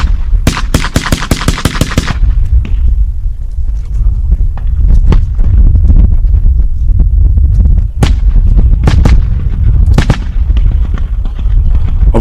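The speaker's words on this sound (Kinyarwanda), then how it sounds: "Umwanzi yaryoheye cyane no kurasa" Bursts of rapid gunfire crack loudly and close during a military drill re-enactment at Gabiro, with a dense volley at the start followed by spaced single shots and short salvos over a constant rumble.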